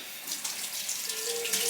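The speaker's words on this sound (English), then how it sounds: "Oh, rinse your can first." Tap water runs over a can as it is rinsed in a kitchen sink before cooking mac and cheese, a steady close splashing gush that lasts throughout.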